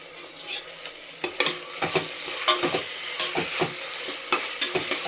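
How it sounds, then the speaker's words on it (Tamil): Tomatoes and mint sautéing in a pan for prawn biryani, with repeated sharp spatula stirs and scrapes in an irregular rhythm over a constant close sizzle. "திரும்பி அதுவும் தக்காளியும் சேர்ந்து நல்லா வதங்கட்டும்."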